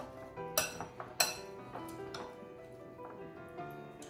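Cucumber sunomono salad gets stirred in a dish, light clinks and taps of a utensil against the bowl coming in a few sharp hits and then softer scrapes, faint and close.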